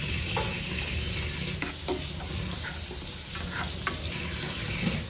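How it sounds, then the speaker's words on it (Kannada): Curry leaves crackle in hot oil as tempering for an egg sambar, a steady sizzle with scattered sharp pops and spatters, moderately faint, with no voices. "ನಾವು ಒಗ್ಗರಣೆ ಹಾಕಿ ಚಟಪಟ ಮಾಡಿ"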